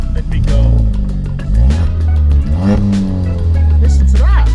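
A Ford Fiesta ST build fitted with a roll cage and EBC brakes revs hard and accelerates up close, its engine note rising and falling through several loud pulls.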